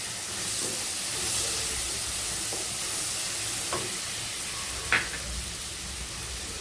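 Finely chopped onions frying in a hot pan, giving a steady, close hiss and sizzle throughout with a few soft stirring clicks and one brief sharper scrape near the end.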